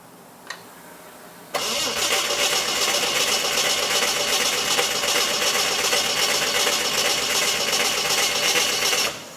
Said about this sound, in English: we're now going to just crank it over for a bit and get oil pressure before we attempt to start it